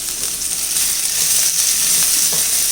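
Onions frying in ghee in a pan for egg biryani, a steady close sizzle with faint stirring clicks, no talking.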